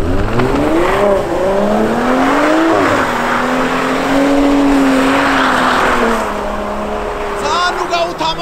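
A BMW M5 on summer tyres slides through snow, its engine rising and falling in pitch as it revs hard and holds a loud, close drone, with a voice briefly talking over it.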